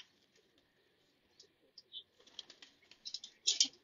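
Domestic pigeons kept by a hobbyist in Khari Sharif, Mirpur, give faint coos and soft calls among light rustling and flutters, growing a little louder and busier toward the end.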